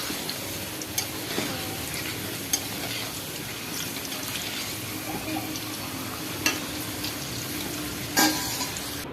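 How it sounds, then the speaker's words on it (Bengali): Potatoes and pieces of meat fry in a home kitchen wok with a steady, soft sizzle, broken now and then by stirring scrapes and clinks throughout. "দেখো আলু ভাজছি, এখন আলু ভাজা এগুলো মাংসগুলো ভালো করে ভেজে"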